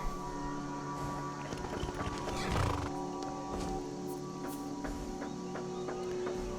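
A horse in a fantasy role-playing video game whinnies loudly near the middle of the clip, with clip-clopping hooves and steady game ambience and music running throughout.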